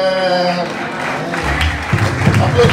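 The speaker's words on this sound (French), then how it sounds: "applaudissons très fort" A church congregation breaks into applause, the clapping building from a faint start into a loud, dense crowd sound, with a voice speaking over it at the start.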